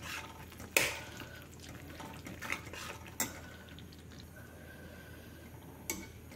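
Fried fenugreek leaves get stirred into thickened garlic curry gravy, with a few sharp spoon knocks against the pot and soft scraping over quiet background.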